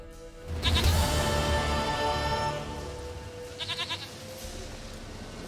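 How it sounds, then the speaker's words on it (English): Goat bleating in The Witcher 3 video game: one loud, wavering bleat under a continuous musical background, followed a little later by a quieter fluttering call. "Goat of mine, dearest, sweetest goat."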